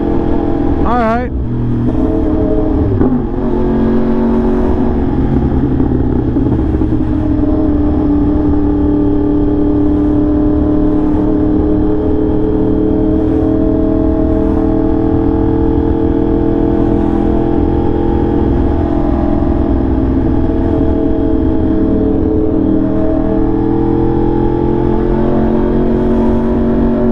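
A Yamaha R1M sportbike fitted with a new SC Project exhaust drones and revs steadily at close range for nearly half a minute, its engine tone rising and falling over a constant road rumble.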